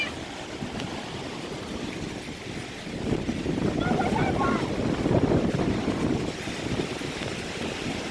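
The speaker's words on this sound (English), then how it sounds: "The rain is absolutely pouring down right now." Heavy rain pours down outdoors on a dirt bike outing, a dense continuous wash of noise with wind buffeting the microphone, growing louder partway through and holding steady.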